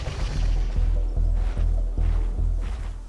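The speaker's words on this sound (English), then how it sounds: "sounds like someone starting an engine." In a Spinosaurus video game, a rhythmic chugging like an engine being started repeats in evenly spaced low thumps over a dense, washy background.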